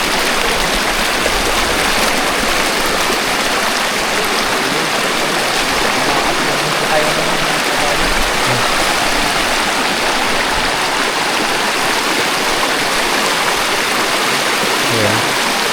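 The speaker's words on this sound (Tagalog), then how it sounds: "Malakas ang agos." A strong river current rushes loudly and steadily at a crossing on a rugged horse trail, a dense, continuous wash of flowing water with no pauses.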